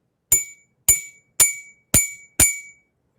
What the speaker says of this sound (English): I'm going to hit the one with the little bit of water in it.